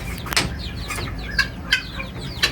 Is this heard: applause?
no